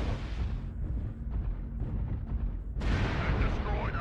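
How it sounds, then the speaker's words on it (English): Incoming missile explosions in MechWarrior Online come as a heavy, continuous rumble of booms that swells into a louder blast near the end, with a voice speaking over it. "Warning, incoming missile."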